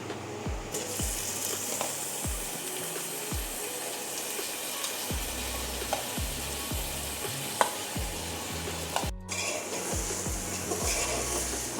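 Two onions fry in hot oil in a pan with a constant close sizzle, while a spatula stirs and taps in an uneven rhythm throughout.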